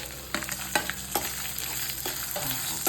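Coriander seeds, cumin, fenugreek and dried red chillies fry in a little oil for coconut chutney, giving a steady close sizzle with a few sharp crackles and stirring scrapes.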